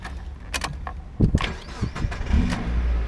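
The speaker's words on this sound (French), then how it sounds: "Et une mise en route avec une clé simple." A 2000s Mazda MX-5 NB roadster is started with a plain key: a few clicks, then a short cranking burst as the engine catches and settles into a steady low idle, close and fairly loud.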